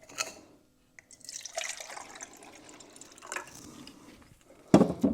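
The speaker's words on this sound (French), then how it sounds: "Donc je vais mettre de l'eau. De l'eau chaude," Hot water is poured into a container in short, uneven splashes and trickles with drips between, close by and fairly quiet, ending in a louder burst of pouring.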